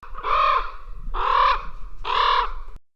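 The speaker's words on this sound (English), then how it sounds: "a raven is much larger and goes," Three loud, close raven calls, each a harsh, drawn-out croak with a short gap between them, heard alone against a quiet background.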